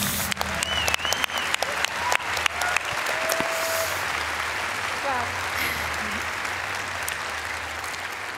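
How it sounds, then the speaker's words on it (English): Applause from a conference audience rises in sharp claps and settles into a steady wash that continues to the end, with faint voices underneath. "He definitely deserves that applause"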